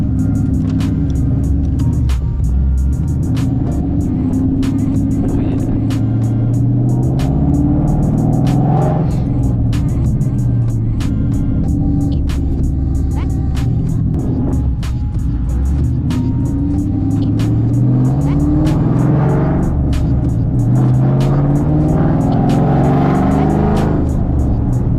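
A Ford Mustang 2-valve engine drones loudly and continuously from inside the cabin, rising and falling with acceleration, while a rapid ticking rattle runs throughout.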